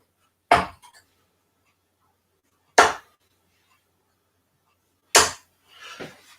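Three darts strike a dartboard one at a time, each a sharp, close thud spaced a couple of seconds apart in an otherwise quiet room, followed by a softer scuffing sound.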